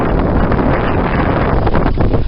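Strong easterly wind buffets the microphone at sea in the Caribbean in a continuous loud roar, with gusty rumbling throughout.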